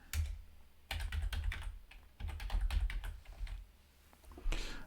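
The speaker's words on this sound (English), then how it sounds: "let's type it in" Keys tapped on a computer keyboard while entering crossword answers: quick, uneven runs of clicks with brief pauses, close and moderately quiet, no talking.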